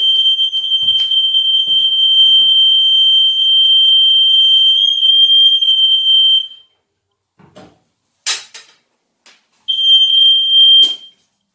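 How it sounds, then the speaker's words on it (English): A smoke detector set off by smoke from an antique oil lamp shrills in a steady piercing beeping tone for several seconds, stops, then sounds again in a shorter burst amid a few clunks and rustles. "I guess the smoke detector works good."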